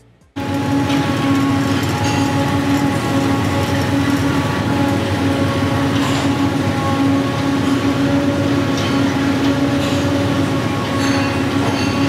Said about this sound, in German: können einmal hören, wie sich das unten beim Schaufelrad so anhört